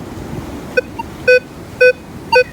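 A Garrett AT Pro metal detector sounding over a dime buried 9.5 inches deep: a short chirp, then three loud, even electronic tones spaced about half a second apart over a quiet hiss.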